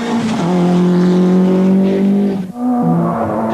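A four-wheel-drive rally car at the 1989 Circuit of Ireland rally is driven hard on tight wet tarmac, its engine screaming loudly at high revs, dropping briefly on a gear change, then climbing again.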